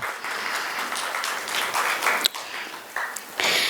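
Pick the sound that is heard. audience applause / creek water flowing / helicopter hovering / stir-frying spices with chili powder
audience applause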